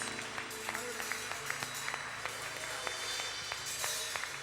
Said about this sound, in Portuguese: aplauda o Senhor Jesus Cristo